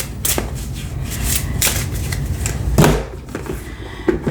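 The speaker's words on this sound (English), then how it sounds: "And I shuffle on camera so you can know that I'm not staging cards for your reading." Tarot cards being shuffled by hand, a series of quick riffling and sliding bursts with soft taps, close and fairly loud.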